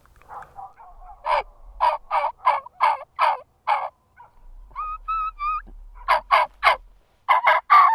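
A hunter's mouth call imitates a turkey, giving a raspy run of loud yelping notes, then a higher whistled kee-kee run, then more rapid yelps, all close and sharp with faint dogs far off.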